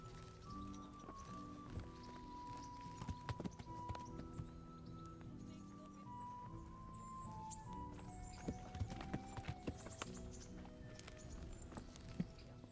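Horse hooves clopping at a walk in the medieval game Kingdom Come: Deliverance II, steady and fairly close, over ambient game music with light tones; no clear whinny stands out.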